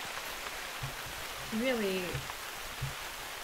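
Steady rain falling in the hunting game theHunter: Call of the Wild, a soft even hiss running the whole time, with someone briefly speaking over it and a faint animal-like call rising midway.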